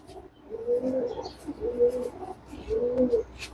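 Andhra pigeons, a male and female pair, give three soft rhythmic coos in a row, close by and clear, with no talking over them.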